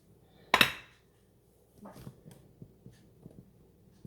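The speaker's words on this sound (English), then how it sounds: "So now I'm going to give it a slice here." Knife cutting into a crustless spinach quiche in a baking dish: one loud clink of the blade against the dish, then soft, faint scraping and tapping as the slice is worked free, with no talking.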